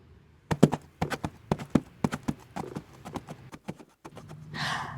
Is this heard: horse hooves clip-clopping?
yes